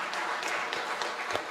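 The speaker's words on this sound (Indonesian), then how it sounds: "Tepuk tangan lagi untuk Tebu Ireng." An audience applauding at an event for Tebuireng, a short burst of dense, moderately loud clapping that continues evenly throughout.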